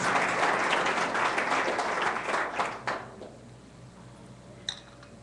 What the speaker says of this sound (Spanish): Denle un aplauso fuerte al Espíritu Santo.